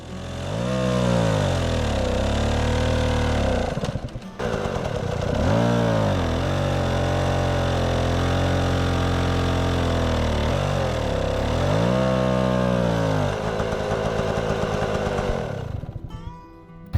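A 2022 KOVI 300 PRO two-stroke enduro motorcycle revs hard for wheelie practice, its engine buzzing loudly and rising and falling in repeated swells of throttle, close and continuous with a brief dip partway through.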